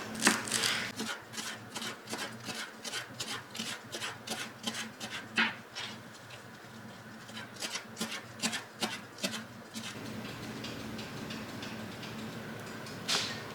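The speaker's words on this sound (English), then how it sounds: "I'm gonna cut the stems off and I'm gonna keep those for my veggie stock" A knife cuts through fresh cilantro stems on a cutting board in a fast run of crisp, rhythmic chops and rasps, close and moderately quiet, with a pause midway before the chopping resumes, no talking.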